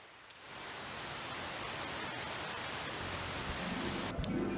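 Steady rain falls in the Masoala rainforest in Madagascar, a dense, even hiss of droplets that stays constant throughout without other sounds or voices.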